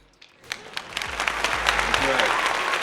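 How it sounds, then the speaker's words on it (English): Applause for a guest on an Igbo names show starts after a brief pause and builds into steady clapping from a small group, with a voice speaking faintly underneath. "let's get a round of applause for Karina."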